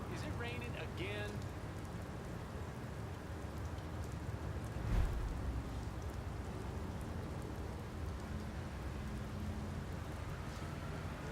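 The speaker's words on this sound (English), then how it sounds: "Is it raining again?" Steady rain in the video game Mafia 3 patters continuously, with a brief louder thump near the middle and faint murmuring voices in the background.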